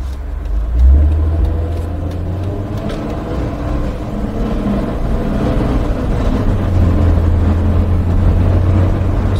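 A Dodge Sprinter van driving with the accelerator pedal floored, its engine making a steady, loud low drone with road rumble throughout, with no talk.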